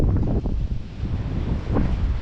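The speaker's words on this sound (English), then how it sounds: "Sorry about the wind noise, but the wind is just crazy." Strong gusting wind buffets the microphone outdoors near a horse arena, a loud low rumbling roar with uneven pulses and no talk over it.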